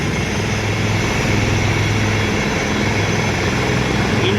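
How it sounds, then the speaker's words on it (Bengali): An Indian Army helicopter landing on an open ground produces a loud, steady rotor and engine roar with a low throbbing drone, continuous and close throughout, with no voices. "এই হেলিকপ্টারটাও এই মুহূর্তে এসে নামলো"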